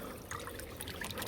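Water trickles and splashes while sheep are washed, a steady, close liquid wash with small irregular spatters and no voices.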